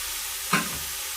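Raw banana pieces and green chillies hitting hot oil, giving a single short burst of sizzle and a stir that fades quickly into a quiet background.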